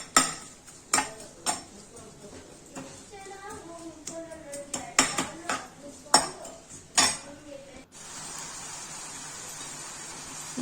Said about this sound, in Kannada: ಎಣ್ಣೆ ಕಾದ್ಮೇಲೆ ಅದರೊಳಗಡೆ ಈರುಳ್ಳಿ ಜೊತೆಗೆ ಒಣಗಿದ ಮೆಣಸಿನ್ಕಾಯಿನ ಹಾಕ್ಕೊಳ್ತಾ ಇದ್ದೀನಿ